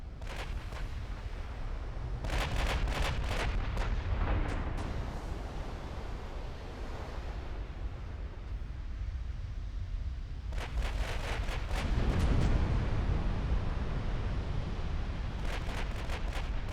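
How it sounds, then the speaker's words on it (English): Warship guns firing in the naval strategy game Ultimate Admiral: Dreadnoughts: deep, rumbling booms arrive in several clustered volleys over a continuous low roar, with no talking. "So these two start firing at the destroyers, while the two lead ships can focus down the cruiser."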